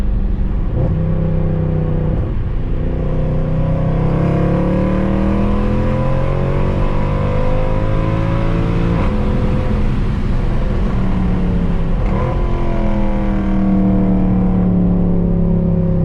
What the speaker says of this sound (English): you can get a little bit more exhaust sound out of the back with that